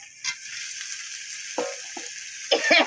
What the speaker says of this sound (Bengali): আলুটা কষাবো আলুটা কষানো হয়ে গেলে তারপরে গোল দিব